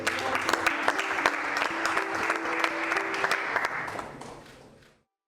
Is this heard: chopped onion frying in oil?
no